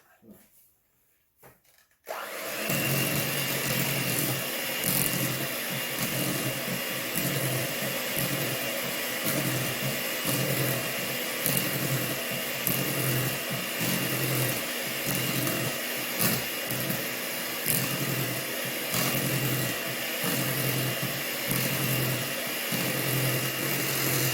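An electric mixer whirs steadily through PSMF bun batter for hot dog buns, starting abruptly after a brief quiet moment and running loud and continuous, with a faint rhythmic churning throughout.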